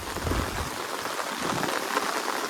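Steady, dense rain pours down with a constant hiss of water splashing and running, fairly close and unbroken, with no voices.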